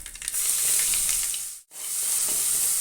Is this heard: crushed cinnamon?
yes